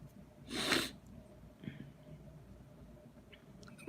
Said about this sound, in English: The morning sniffles